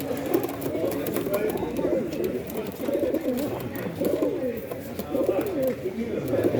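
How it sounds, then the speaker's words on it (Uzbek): Pigeons coo continuously at a pigeon fanciers' gathering in Kochkor-Ata in southern Kyrgyzstan, a dense overlapping chorus of low throaty calls close by, with people talking over it. "Bu Aktar, bu Chinni, bu Qiziltosh meni kaptarlarim."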